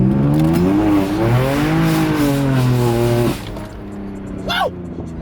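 A 1200-horsepower twin-turbo Lamborghini Huracán engine revs hard through rising and falling pitches, loud and close, then drops off with a brief high squeal.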